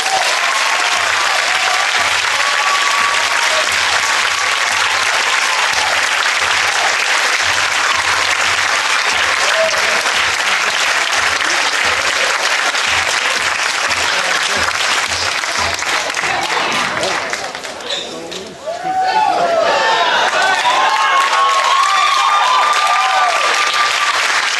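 A live audience at a spoken-word event applauds loudly and continuously, a dense wash of clapping that dips briefly before swelling again, with faint voices mixed in.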